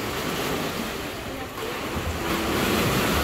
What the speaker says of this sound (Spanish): me encanta ese sonido de las olas